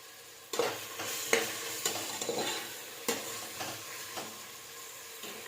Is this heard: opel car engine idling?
no